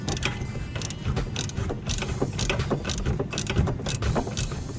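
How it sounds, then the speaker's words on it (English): Rapid clicking of a ratchet tightening a sway bar end link on a Chevy Malibu, the nut held with a 17 mm open-ended wrench; a steady, close mechanical ratcheting continues without pause, no talking. "I'm going to use a 17 millimeter open-ended wrench to hold it here, which should allow me to tighten the ratchet."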